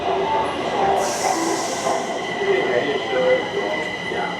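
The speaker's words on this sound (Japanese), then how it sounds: "電車になります。 ちょうど今来ましたね。" A driverless metro train pulls into a Taipei MRT station, a loud steady rumble of wheels and motors with a brief high squeal as it slows, the platform noise continuous throughout.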